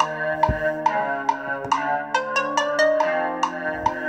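Trap beat built in GarageBand on iOS, looping a bright bell-like synth melody over deep booming 808 bass hits and crisp percussion, steady and fairly loud with no voices.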